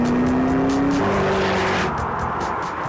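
A supercharged 5.4-litre engine in a 200 mph supercar at speed, a loud sustained roar with a rising then shifting tone, close and alone without talk.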